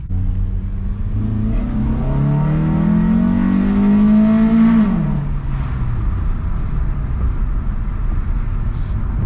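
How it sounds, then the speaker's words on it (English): A 2004-08 Acura TSX engine with a short ram intake revs hard at full throttle, its pitch climbing steadily to a peak before dropping off into a loud, rumbling idle. "one of the first full throttles I've ever done on this car"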